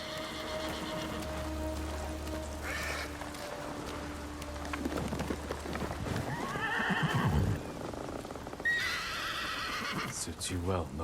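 A horse in the video game Ghost of Tsushima whinnies loudly amid steady rain, with hoof clops and snorting; a person speaks at points over the sounds.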